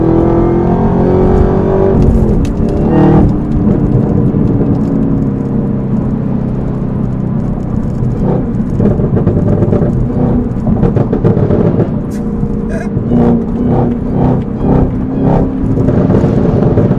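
A Chevrolet Camaro ZL1 with a modified exhaust drones loudly and steadily from the cabin, a deep continuous engine note with a rev surge early on and small throttle pulses later, with no talking.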